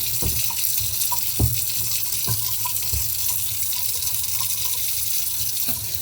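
Tap water runs steadily into a kitchen sink while a carrot is washed, a continuous close hiss broken by a few soft knocks and splashes.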